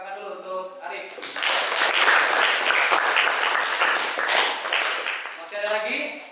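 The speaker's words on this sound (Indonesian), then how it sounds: "Beri tepuk tangan dulu untuk Arif" A classroom of students gives a burst of clapping for a classmate after his presentation. The applause is close, lively and sustained for about four seconds, with a teacher's voice before and after it.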